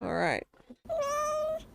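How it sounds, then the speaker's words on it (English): A pet cat gives two close meows: a short rising one, then a longer drawn-out one after a brief pause, with a person speaking quietly in between. "And that is my cat"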